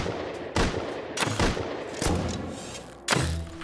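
Heavy M2 machine gun fire in the survival game Rust, heard as a few loud, separated booming bursts with steady background game noise and no talk.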